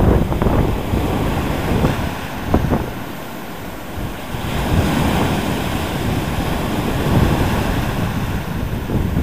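Sea waves break and wash continuously along the shore at sunrise, with strong wind buffeting the microphone throughout; a loud, steady roar with occasional surges and no voices.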